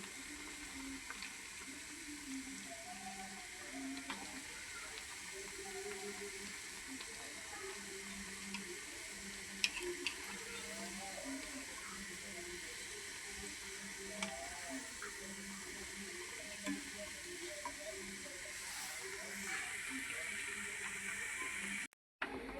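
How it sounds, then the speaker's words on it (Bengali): Piyaju onion fritters fry in hot oil, giving a steady, close sizzling hiss that runs unbroken for over twenty seconds before cutting off abruptly near the end. "এগুলি আগে পেঁয়াজুগুলো ভেজে নিব।"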